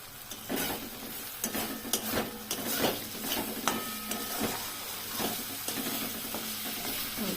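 Stuffed pointed gourd curry fries in oil with a steady, dense sizzle and crackle, punctuated by repeated scraping stirs of a spatula throughout, close and fairly loud with no talking.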